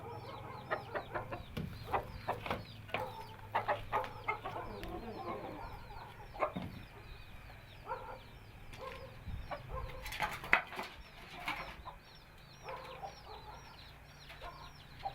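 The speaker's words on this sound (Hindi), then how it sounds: "ये मुर्गा प्योर मियाँ वाली नस्ल है" Aseel hens cluck and chatter repeatedly at close range, with Aseel rooster calls and other fowl noises mixed in against a low hum.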